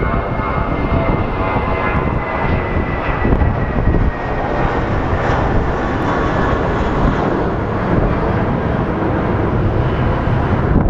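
Boeing 737 MAX jet airliner engines at Phoenix Sky Harbor Airport, a loud, steady, broadband roar with a high whine on top, sustained without a break and with no talking.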